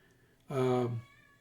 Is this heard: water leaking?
no